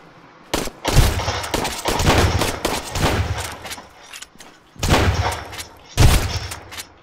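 Shotgun gunfire in the survival video game Sunken Land: several sharp, loud blasts in quick bursts, separated by quieter stretches with faint background game noise.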